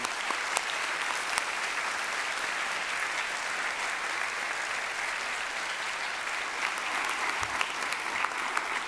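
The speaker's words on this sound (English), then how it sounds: "So let's give an applause to all the others." Graduation ceremony audience at Lancaster University applauding in a large hall, a steady, dense wash of clapping that holds at an even level for the full length without any speech over it.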